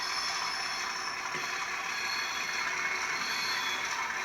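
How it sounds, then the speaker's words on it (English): A steady high-pitched metallic flange squeal from a model Class 37/7 diesel locomotive's wheels grinding around a curve, continuous over a faint mechanical rattle, with no voices. "You can hear the flange squeal."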